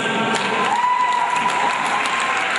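Loud, close applause from a school audience at a Founders Day event, honoring parents: brisk, continuous clapping with a voice speaking over it and a thin sustained tone running through.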